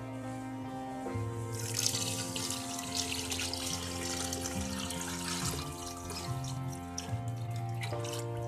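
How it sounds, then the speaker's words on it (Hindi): Water pours steadily into a cooking pot of rice for pulao, a soft rushing splash that fills the background, with a faint hum underneath. "अब इसमें डाल देते हैं हम पानी।"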